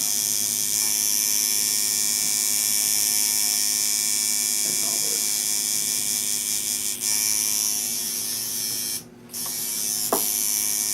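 A tattoo machine fitted with magnum shader needles buzzes steadily and close, a continuous electric whine that runs almost unbroken, with one brief dropout near the end and faint background sounds.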